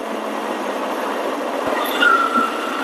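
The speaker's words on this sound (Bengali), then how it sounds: "দেখেন উপরে ট্রেন চলে, নিচে আমগো গাড়ি চলে।" A train runs along an elevated overhead track above street traffic, a steady loud rolling rumble with a brief high wheel squeal near the end.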